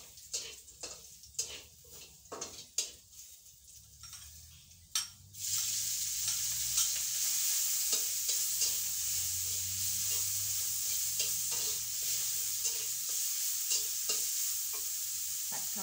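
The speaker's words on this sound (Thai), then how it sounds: "ผัดข้าวผัดแหนม" Thai fried rice with fermented pork (naem) and chilies is stirred with a utensil clacking against the pan in a few scattered scrapes, then a loud, steady sizzle of stir-frying takes over and continues close up without speech.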